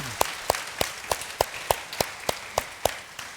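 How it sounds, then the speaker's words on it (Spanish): A church congregation claps in a brisk, even rhythm during a Spanish-language service, about a dozen sharp, close claps spaced roughly a third of a second apart with no talking between them. "Le damos un aplauso al Señor esta mañana"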